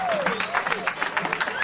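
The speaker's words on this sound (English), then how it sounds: "Big round of applause, please." Audience applause greeting City Manager Tom Hoover at a World Smile Day ceremony, a steady patter of clapping under a sliding tonal whistle and some overlapping voices.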